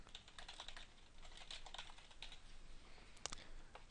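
Quiet, steady typing of message text on a computer keyboard, a continuous flurry of soft, close key clicks with one sharper tap near the end, no voices.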